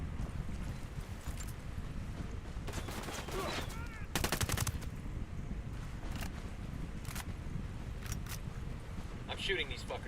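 Gunfire in a shooter video game, scattered bursts and single shots over a constant dense game background, with players talking throughout.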